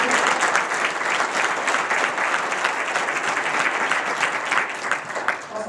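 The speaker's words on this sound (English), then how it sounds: "Round of applause for these folks." Applause from an audience at a music educators' presentation, a steady, dense clatter of many hands clapping at an even level throughout, fairly close and continuous.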